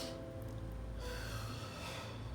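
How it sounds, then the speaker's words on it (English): A person draws a deep breath in through the nose, a soft airy inhale followed by another sniffing intake, close to the microphone over a steady background hiss. "That's how you know you're breathing and taking a good deep breath in."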